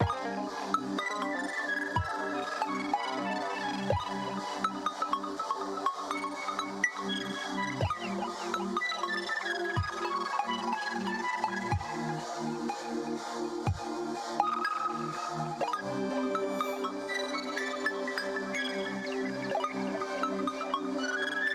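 FL Studio type beat, first section with effects added: layered melodic synths over steady bass, with recurring pitch-dropping sweeps every two seconds or so, playing loud and continuous without talk.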